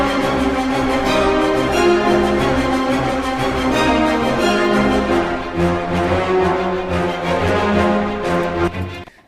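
Orchestral strings doubling a horn section line, a full, loud cinematic passage with rhythmic pulses that fades near the end, heard alone without speech.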